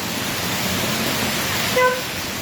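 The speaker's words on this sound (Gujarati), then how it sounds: "દોઢ કલાકથી વરસાદ ચાલુ છે" A constant wash of heavy rain in Vadiya, Gujarat, falling for an hour and a half, hisses evenly throughout, with a brief faint tone rising over it near the end.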